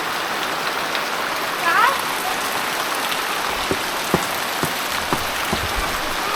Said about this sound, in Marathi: पाय ठेवल्या ठेवल्या पावसाला सुरुवात म्हणजे पाऊसच घेऊन आलो